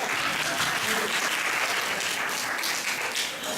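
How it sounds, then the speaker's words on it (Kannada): An audience at a Kannada contest show claps steadily and loudly to welcome a guest, a dense, continuous burst of applause with no break. "ಚಪ್ಪಾಳೆ ತಟ್ಬಿಟ್ರು"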